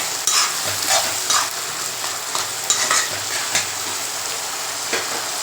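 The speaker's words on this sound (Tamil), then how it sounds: "அதையும் போட்டு நல்லா வதக்கலாம்" Steady sizzling of eggplant sautéing in a hot pan, with repeated scraping stirs at a regular pace, close and fairly loud.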